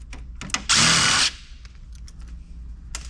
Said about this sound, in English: the first thing to do is just start taking out screws